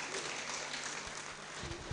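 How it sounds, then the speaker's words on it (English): Applause for a primary school at a peer education event in Rwenzori, a steady wash of clapping from a crowd, moderately faint and continuous throughout the short stretch. "A round of applause for Busita Primary School."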